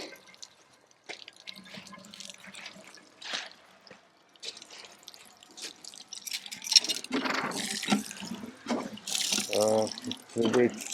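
Water being poured into the bore of a newly installed allotment hand pump to prime it, a soft irregular trickle and splash under louder talk and handling noises outdoors.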